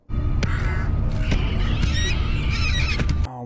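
Birds honk and shriek in the animated series Invincible, making loud, layered, squealing cries over a dense low rumble that stops abruptly near the end.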